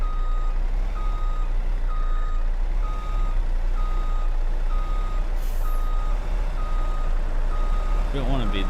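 A truck backs up in a forestry video game, its steady reversing beeps repeating at an even rhythm over constant loud engine rumble, with no voices present.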